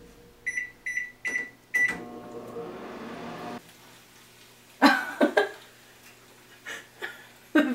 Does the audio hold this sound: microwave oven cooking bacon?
yes